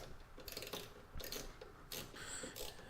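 Faint ratcheting clicks and small mechanical rattles come in short irregular bursts as screws are tightened into a plastic part during installation of a Steeleng rear seat kit on a Club Car Precedent golf cart.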